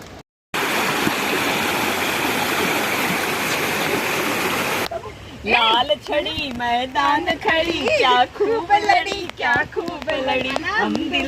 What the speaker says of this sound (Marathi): ही अशी नदी वाहते ना उल्हास नदी आहे ही